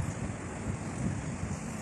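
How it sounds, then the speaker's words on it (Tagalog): Wind blowing outdoors among flowering santan shrubs, a steady broadband rush and rumble of gusts buffeting the microphone, with no voices. "Kumahangin-hangin, oh, di ba?"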